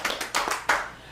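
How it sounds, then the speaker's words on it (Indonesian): Sparse hand claps from a church congregation during a sermon, a few separate bursts of clapping spread across the moment, fairly close and moderately loud with no talking. "tepuk tangan dong buat Tuhan Yesus"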